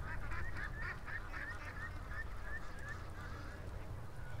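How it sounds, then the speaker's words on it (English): A flock of ducks or geese calls outdoors in a muddy spot, a run of repeated honking quacks at moderate distance over a low background rumble. "There's some happy ducks, eh?"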